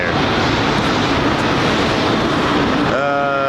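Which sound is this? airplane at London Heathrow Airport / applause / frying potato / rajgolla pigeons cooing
airplane at London Heathrow Airport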